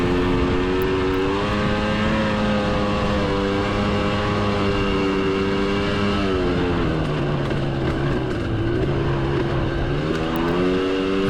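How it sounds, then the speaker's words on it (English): A dirt bike descends a hill on engine braking during a cross-country race at The Holler in Clay City, Kentucky, its engine holding a steady, buzzing drone that dips and rises slightly in pitch, close and continuous for the whole stretch. "And I just let my engine do my braking down this hill."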